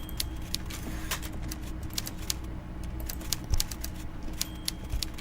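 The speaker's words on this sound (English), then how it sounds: "Meanwhile, Everard Clare clatters away on his typewriter, willfully indifferent to your presence" A typewriter in the video game Disco Elysium clatters in rapid, irregular bursts of sharp keystrikes over a low ambient rumble, with no talking.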